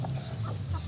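A rooster gives a brief, soft cluck, fairly quiet against low background noise.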